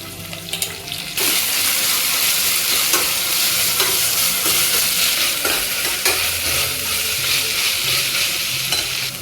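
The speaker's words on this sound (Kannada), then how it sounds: "ಇದು ಕಂದು ಬಣ್ಣ ಬರುವಷ್ಟರ ಮಟ್ಟಿಗೆ ಫ್ರೈ ಮಾಡ್ಕೋಬೇಕು ಮಾಮೂಲಿ" A big chopped onion with homemade ginger-garlic paste fries in a pan, a loud continuous sizzle with repeated stirring scrapes after a brief quieter start.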